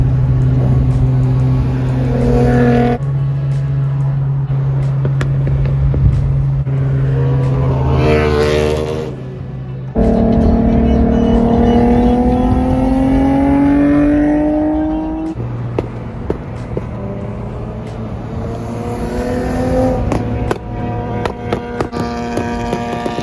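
A car engine repeatedly accelerates, its pitch climbing through gears with loud revving, brief drops between shifts, heard from inside or near the vehicle.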